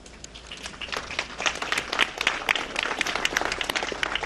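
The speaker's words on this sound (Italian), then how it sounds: "l'applauso all'uscita dei feretri dalla chiesa Gesù Misericordioso nella frazione Santo Stefano di Rende" Applause rises from a crowd as coffins leave the Gesù Misericordioso church in Santo Stefano di Rende at a funeral, a sustained ragged clapping from many hands, moderately distant and building slightly over the few seconds.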